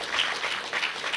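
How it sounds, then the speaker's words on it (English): An audience at a youth political meeting claps for itself, a steady, brisk patter of many hands, moderately loud and filling the whole short moment. "please clap for yourselves"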